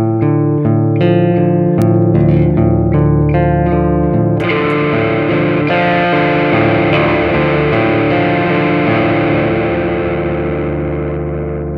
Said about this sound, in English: Testing the drive pot to make sure it gives us more or less distortion, the tone pot gives us a cut or boost in treble